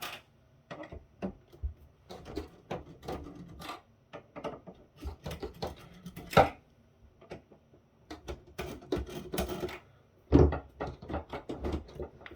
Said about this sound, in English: to remove the power supplies, ouch, you have to use a screwdriver to loosen the screws